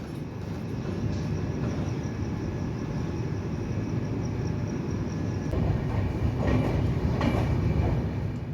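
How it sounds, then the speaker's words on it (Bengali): The Darjeeling Mail passenger train runs on rails near Bolpur with a steady, loud rumble heard from inside. Faint clicks from the wheels and a few higher squeals come in toward the end. "ট্রেন ঢুকছে বোলপুর, মোটামুটি আধ ঘন্টা মতো লেট"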